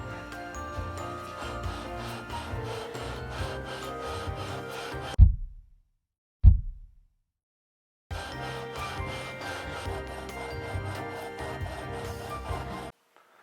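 Continuous abrasive rasping of sanding a metal cylinder head gasket surface on a Honda motorcycle engine, stopping briefly with two sharp knocks, then resuming steadily before cutting off.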